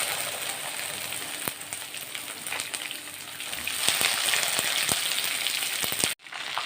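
Cut okra tumbles into dal frying in a pan, setting off a steady, fairly loud sizzle with watery crackle that swells midway and then cuts off abruptly near the end.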